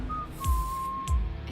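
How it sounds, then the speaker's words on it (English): A lone whistled tune from the rock opera Repo! The Genetic Opera, a thin sustained pitch wavering slightly over a soft ambient background, brief and moderately faint. "she hears Grave Robber whistle a Blind Mag song"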